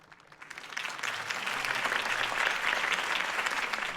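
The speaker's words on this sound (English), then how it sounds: "could have heard that applause" Applause from a large crowd in the video game Batman: The Telltale Series rises quickly and holds steady, a dense wash of clapping with a faint murmur of voices underneath.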